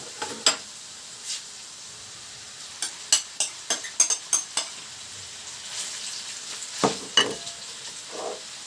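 Pork cracklings fry in a pan, giving a faint, soft sizzle broken by a run of sharp utensil scrapes and taps against the pan, with no voices.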